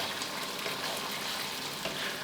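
Tomato sauce for spaghetti with minced pork and sausage sizzles steadily in a hot pan, a dense, even hiss of frying close up with no talk over it.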